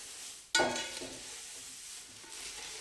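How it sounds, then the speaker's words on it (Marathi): Thin nylon poha chivda mixture is tossed and stirred in a pan, one sharp scrape or clatter followed by a soft, steady rustling hiss, fairly quiet with no speech. "हे सगळं मिश्रण जे आहे ते व्यवस्थित मिसळून घ्यायचं आहे या पद्धतीनं"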